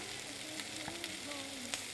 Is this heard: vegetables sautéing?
yes